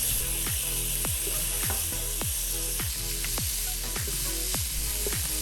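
Peeled, deveined shrimp, 200 grams, added to a pan with chopped spinach and broccoli, sizzling steadily while a regular clicking ticks about twice a second over the frying hiss, close and continuous.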